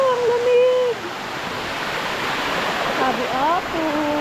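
Nalalata Falls sends out a steady, rushing roar of falling water close by, with voices briefly calling over it.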